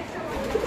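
Pigeons in a loft cooing softly, a brief low murmur against faint background noise.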